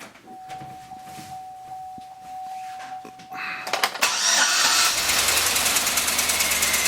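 A starter whirs and a swapped LS V8 engine catches and roars to life, settling into a loud, rough, uneven, misfiring idle with a stumbling beat.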